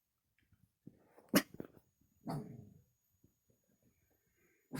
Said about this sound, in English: What are you barking at now?